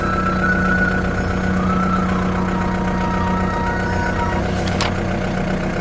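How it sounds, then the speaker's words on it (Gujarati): A farm tractor engine runs steadily and loudly in release gear while a farm motor is lowered, a constant rumbling drone with a brief sharp clank near the end. "ધીમે ધીમે ટ્રેક્ટર રિલીઝમાં જવા દઈશું"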